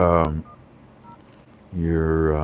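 Telephone touch-tone dialing beeps, two steady tones separated by a short pause, close and clear, with no talk over them.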